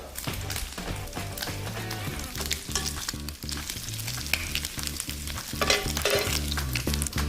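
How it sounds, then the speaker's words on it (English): Bacon frying in a pan, a steady close sizzle and crackle running throughout with occasional knocks and scrapes, no talking. "our bacon is just finishing up."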